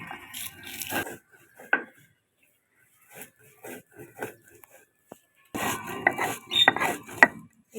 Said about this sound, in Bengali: এই ভাজা মশলাগুলোকে সব গুঁড়িয়ে নেব।